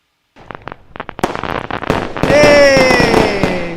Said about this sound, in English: It's kind of loud, the fireworks.